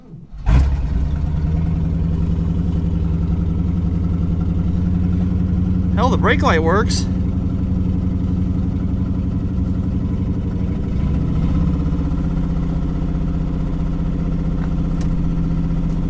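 A 1970 Oldsmobile that spent over 15 years awaiting the crusher starts and settles into a loud, steady rumbling idle, with a brief squeal partway through and someone talking over the engine.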